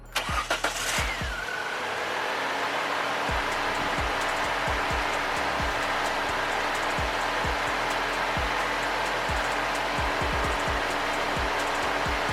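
A car engine cranks briefly and catches, then settles into a steady, loud idle with a regular low pulsing throb throughout, freshly fitted with a replacement alternator.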